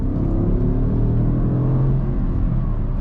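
2013 Porsche Cayenne Turbo with Tiptronic transmission accelerating hard, a loud, steady engine roar with layered harmonics that climbs slightly in pitch, close and continuous with no talking.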